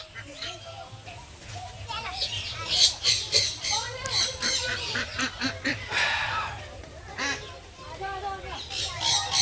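Several parrots squawk and screech loudly in harsh, repeated bursts, close by at a bird park in India, over a low background hum.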